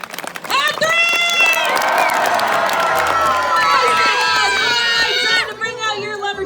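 Large outdoor crowd at a lumberjack show on Grouse Mountain, Vancouver, cheering and shouting loudly and steadily, with whoops and clapping mixed in, the roar swelling then easing near the end.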